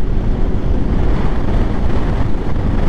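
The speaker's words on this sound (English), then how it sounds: "there's some chilly wind" Chilly wind blows on a mountain road, buffeting the microphone with a loud, continuous low rumble and roar that never lets up, with no talk.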